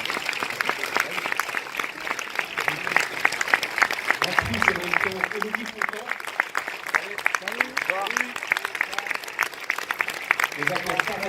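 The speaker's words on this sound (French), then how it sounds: "Vous pouvez applaudir." A cinema audience at a film premiere applauds, dense clapping running throughout, with voices and scattered cheers mixed in.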